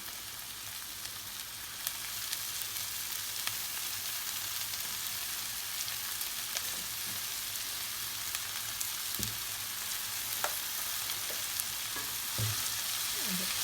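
Finely chopped chard goes into a pan of sautéed greens, giving a low steady sizzle with a few soft scrapes and clicks of stirring, quiet and without talk.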